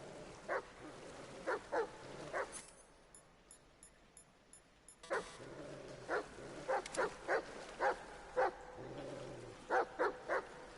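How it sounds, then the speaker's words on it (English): A Great Dane barking in Metal Gear Solid Delta: Snake Eater, repeated sharp barks in irregular clusters with a quiet gap in the middle, fairly near, over a low game ambience. "That is a Great Dane."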